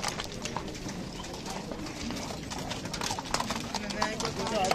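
Horse hooves clip-clopping at a horse market in Jalal-Abad, scattered irregular clops amid a busy crowd with pigeons cooing and people talking throughout.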